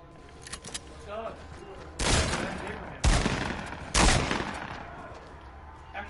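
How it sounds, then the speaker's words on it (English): Gunfire in the Fortnite video game: three loud bursts of shots a second apart, each trailing off, after lighter scattered pops. "Oh, it's because I'm getting shot from behind"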